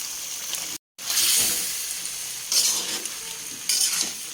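Ridge gourd with prawns and potatoes cooking in a pan gives a close, steady sizzle with bursts of stirring, broken by a brief silent gap near the start.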